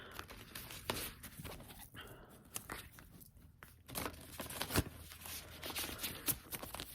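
A brand-new deck of tarot cards is shuffled by hand in a quiet room, giving irregular soft riffling, flicking and papery crinkles in short bursts.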